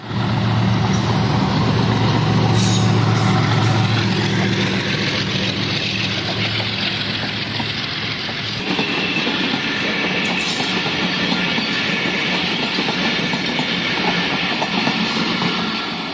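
A train rolls through Changa Manga railway station without stopping, a loud sustained rumble of wheels and carriages close by with low engine drone easing partway through, clattering on steadily with no talk.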